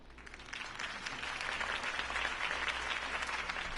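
Video game crowd in Batman Telltale applauding after Harvey Dent's campaign speech, a sustained wash of many hands clapping that swells slightly and holds steady, fairly soft and with no voices standing out.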